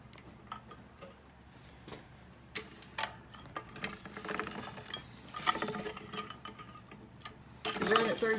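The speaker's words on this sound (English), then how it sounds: "You put your tenderloin in there, just turn this handle on the side and run the pork chop through there." A hand-cranked meat tenderizer runs a pork chop through its rollers, giving irregular metallic clicks, ticks and clunks as the handle turns, with a louder grinding burst near the end.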